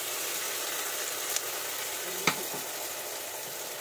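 Vegetables fry with ground spice paste in a pan, making a soft, steady sizzle with a couple of brief utensil taps.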